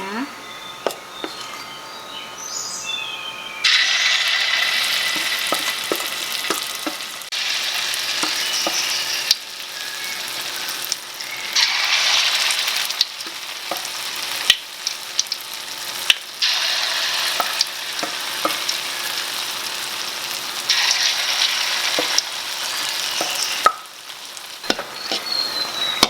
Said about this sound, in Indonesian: Sekarang kita goreng adonannya.